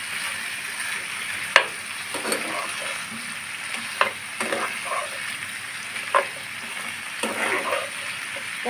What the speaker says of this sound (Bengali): পটলগুলো দিয়ে আমি একটু সময় নিয়ে ভেজে নিব।